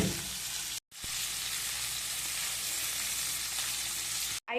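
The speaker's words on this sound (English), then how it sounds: "I'm gonna put in our fresh ground chorizo. And we're gonna cook this up first." Fresh ground chorizo frying in chile oil in a home kitchen in Mexico, a loud, steady sizzle that continues without a break, interrupted twice by brief silent cuts.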